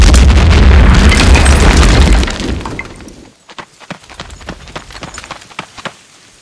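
A loud, sustained boom from a staged blast at a hedge base, rumbling broadly for about two seconds before tapering off into scattered crackles and debris clatter.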